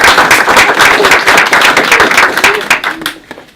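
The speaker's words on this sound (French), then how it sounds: "on peut applaudir Gonzalo." Audience at the inauguration of a neighbourhood project house clapping for Gonzalo, loud and close with distinct individual claps that thin out and fade at the end.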